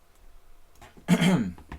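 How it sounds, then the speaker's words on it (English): A single short, harsh cough bursts out close to the microphone after a brief quiet stretch. "I mean to scare you guys with the coughing sound"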